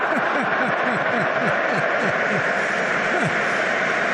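A football stadium crowd at a Manchester United charity match applauds a shot with a broad, steady roar of clapping, while a commentator talks over it.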